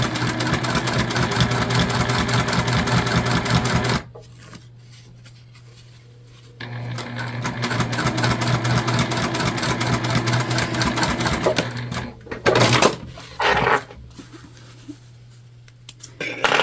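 A sewing machine runs in fast, rattling bursts while stitching fabric for a key fob wallet, stopping for a few seconds midway before starting again, then ending in short clicks and handling noises.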